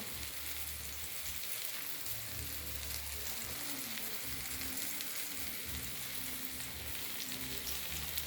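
Eggplant omelette (tortang talong) fries in a pan with a steady, dense sizzle and crackle that holds evenly throughout, close and alone with no talk.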